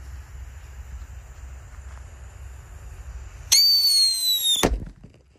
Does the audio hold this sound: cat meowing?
no